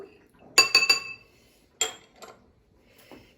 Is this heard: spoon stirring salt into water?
yes